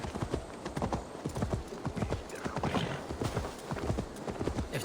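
Horse hooves clip-clop steadily and fairly close in a medieval Viking-era game setting, a quick repeating trot that runs the whole time, with faint chanting and voices in the background.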